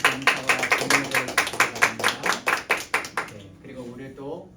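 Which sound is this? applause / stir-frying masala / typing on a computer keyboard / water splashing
applause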